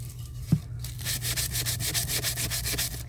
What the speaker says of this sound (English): just sanding a piece of wood